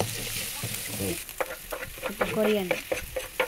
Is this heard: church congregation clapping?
no